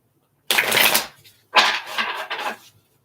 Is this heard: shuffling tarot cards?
yes